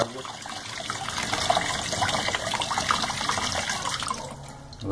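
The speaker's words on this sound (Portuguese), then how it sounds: "Peraí que eu vou ligar a água." Tap water runs steadily into a Colormaq Pioneer tub washer, a continuous splashing hiss with no voices over it.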